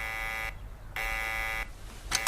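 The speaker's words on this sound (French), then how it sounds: "Ce réveil marchait très bien hier encore." An alarm clock rings in loud electronic buzzing bursts, sounding twice with a short gap between, then starting a third time, with no talk.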